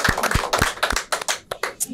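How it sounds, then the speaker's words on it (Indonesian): A small audience claps briefly in sharp, uneven claps over two seconds, fairly close, with no voices over them. "Tepuk tangan dulu dong, kasih semangat dong."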